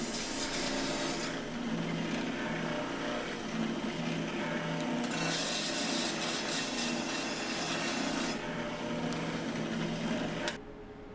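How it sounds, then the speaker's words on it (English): Continuous loud rasping grind of a sander deburring drilled holes in an aluminum piece in a sign shop, steady and close for about ten seconds before the sound drops away. "we take the piece of aluminum to the sander. We're deburring it to get any excess metal on the aluminum from drilling it."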